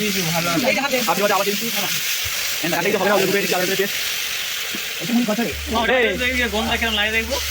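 Ginger garlic paste sizzles in a pan at an outdoor picnic, a constant steady hiss that sits under almost continuous nearby talking.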